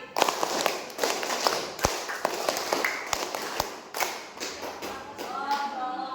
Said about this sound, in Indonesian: Coba tepuk 5 2 kali.